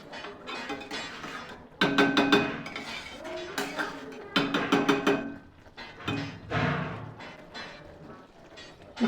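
Metal lid set onto a cooking pan while making restaurant-style egg masala with cashews: several sharp clinks and rattles of metal against metal in separate bursts, close by, with short pauses between.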